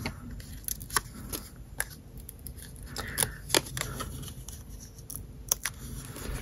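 Backing being peeled off craft pieces from a birthday organiser kit: close, crackly tearing and papery rustles in short bursts with a few sharper snaps, over quiet room noise.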